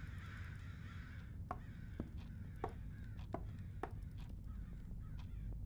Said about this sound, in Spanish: Suenan muchos pájaros.